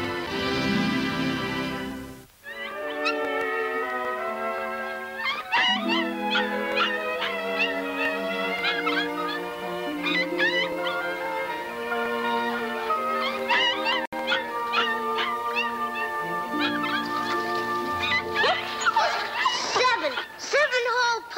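A collie howls and whimpers in a 1950s television drama, long wavering tonal cries and yips at close range, sustained with little pause.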